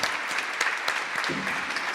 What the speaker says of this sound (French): Merci à vous de l'applaudir